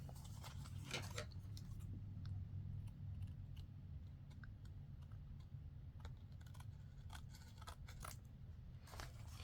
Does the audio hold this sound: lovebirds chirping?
no